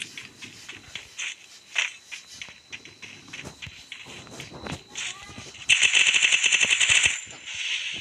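Gunfire in a video game: rapid automatic bursts come in late, loud and dense for over a second, after a stretch of scattered quieter shots and game effects, with a voice briefly heard.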